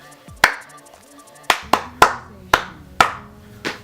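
Sharp hand claps ring out one at a time in an echoing space, about six distinct claps spaced roughly half a second apart, each followed by a short reverberant tail.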